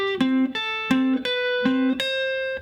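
An electric guitar plays a rock blues pedal-tone lick, alternating repeatedly between a ringing low pivot note and higher fretted notes, a clean single line that is close and clear, with no voices.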